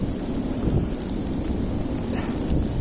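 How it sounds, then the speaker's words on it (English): Hail pelts down during a passing storm at a village pond, a loud dense roar of rattling ice and wind buffeting the microphone throughout, with no voices. "It is bloody hailing."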